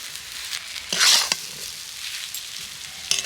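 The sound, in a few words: stirring boiled potatoes with spices in a pan to dry them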